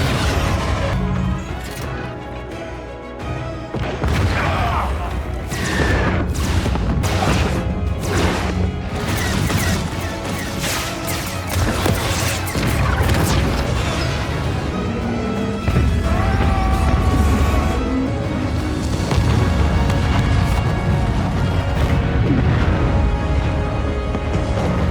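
Weapons open fire and explosions erupt during a chaotic battle, with dense, continuous crashes, booms and blasts layered under a loud, sustained roar for the full stretch.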